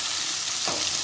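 Tamarind and coriander seeds frying in hot oil in a pan, a steady close sizzle with one brief scrape of the stirring spoon partway through.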